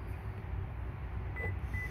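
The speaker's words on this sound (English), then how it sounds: "You heard the second beep will open the rest of your doors." Two short electronic beeps from a 2022 Toyota Tundra smart key unlocking the doors sound a few moments apart, clear and close, over a low steady background rumble.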